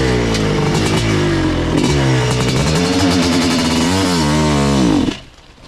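A 1986 Kawasaki KX500 two-stroke dirt bike with an FMF pipe revs loud and close, its raw engine note rising and falling in repeated throttle blips before cutting off abruptly near the end.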